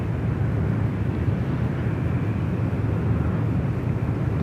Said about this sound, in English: A330 joining us there on runway 34 left